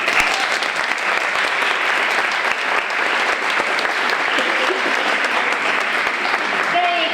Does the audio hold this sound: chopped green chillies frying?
no